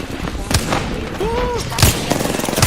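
Gunfire in a shooter video game, heard as sharp cracking shots scattered over a continuous game background, with a short rising electronic tone in the middle.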